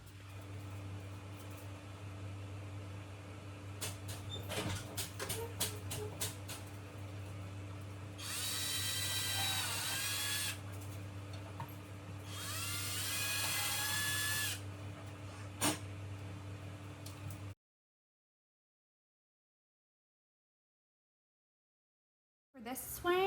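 Two sustained bursts of a power drill whirring as it drills holes for cabinet handles, each a few seconds long, over a steady low hum with scattered clicks, then silence.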